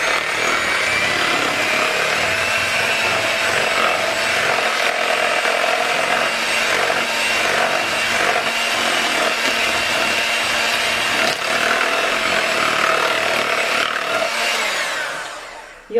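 Handheld electric mixer running steadily with a single beater, whipping turmeric shea butter in a bowl; a continuous close whirring grind with a scraping texture, loud and unbroken for about fifteen seconds before cutting off.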